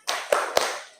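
An Indonesian school class claps the short 'tepuk diam' classroom rhythm, with two sharp, distinct claps standing out over a brief shuffle of hands.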